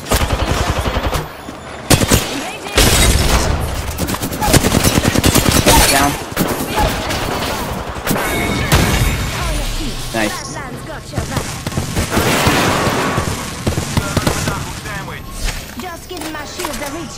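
Dense, loud gunfire with rapid automatic bursts and a grenade explosion in Apex Legends, shots coming in clusters, with players talking throughout.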